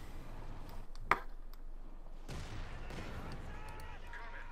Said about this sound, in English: Comet lands another devastating hit against the Grenadiers